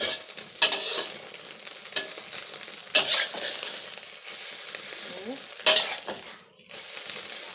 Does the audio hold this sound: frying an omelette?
yes